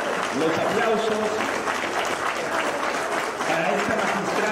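Thick applause from an audience after a speech fills the moment, many hands clapping at once in a continuous, fairly loud wash that holds steady for a few seconds.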